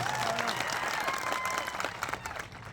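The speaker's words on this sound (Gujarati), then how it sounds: "બધા માટે એકવાર આપણે જોરદાર તાળીઓ પાડી લઈએ" Crowd applause at an outdoor political rally in Vadoth village, Kadwal taluka, steady dense clapping throughout that thins slightly toward the end, with no talk over it.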